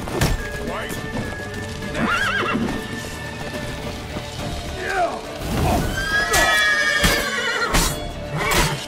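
Horse whinnies and clip-clopping hooves ring out in The Witcher 3 amid battle noise, with several neighs rising over a steady clatter of hooves while game characters shout and talk throughout.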